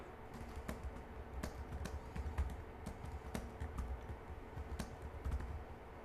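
Rapid, irregular clicking of fingers typing on a computer keyboard, close and steady throughout, with no voices.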